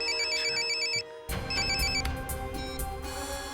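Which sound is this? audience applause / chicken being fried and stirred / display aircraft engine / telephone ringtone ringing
telephone ringtone ringing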